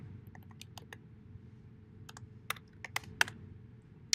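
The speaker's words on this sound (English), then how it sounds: "I'll type in the password." Someone types a password on a computer keyboard: soft, quick key taps with a few sharper clicks, close but quiet over a low steady background hum.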